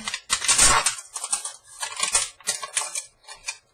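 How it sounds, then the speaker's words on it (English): Scissors snip through the thin aluminum of a soda can in a series of sharp, crinkly cuts, close up and loud, with short pauses between. "take my scissors along the top part here and just kind of trim this up"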